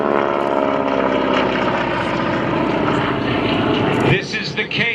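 A Nakajima B5N Kate warbird, a single-engine propeller plane, drones loudly overhead at an airshow, its engine steady before a sudden drop as it passes, with a voice talking over it throughout.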